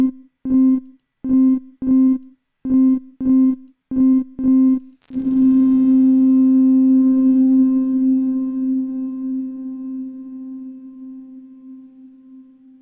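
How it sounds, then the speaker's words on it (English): Drip plugin's Depth reverb on a repeated synth note: eight short, evenly spaced tones, then one held note that blooms into a long, washy tail fading slowly over several seconds, loud and alone. "Next we have Depth, and this one's like a reverb."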